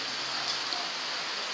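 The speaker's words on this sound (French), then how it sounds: "il pleut" Steady rain hisses evenly over a restoration session on a Citroën C15, a dense, unbroken wash of sound with no voices or other events standing out.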